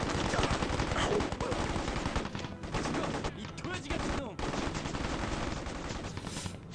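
Gunfire from Mercenaries: Playground of Destruction, with dense, continuous rattling shots and clatter that barely pause. Faint background voices and explosive rumble mix in, though no distinct rocket blast stands out.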